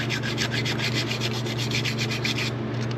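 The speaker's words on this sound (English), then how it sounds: "So I just got a little bit of emery cloth, try and clean up the last little bit." Emery cloth scrubs leftover gasket residue off the top end of a Polaris XC 700 engine in quick, steady back-and-forth strokes, close and continuous with no talking.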